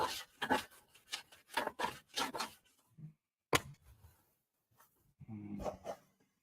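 Rhythmic rasping strokes of sandpaper rubbed back and forth over aircraft landing gear doors, a burst of quick passes, a pause, then a few more scrapes.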